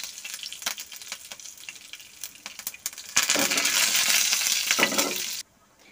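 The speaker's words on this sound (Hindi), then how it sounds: "अब इसमें हम डाल देंगे जीरा, और इसी के साथ में डाल देंगे हम कड़ी पत्ते" Cumin seeds and curry leaves hit hot oil with scattered crackles and pops, then swell into a loud, continuous sizzle for a couple of seconds before cutting off abruptly, with no talking.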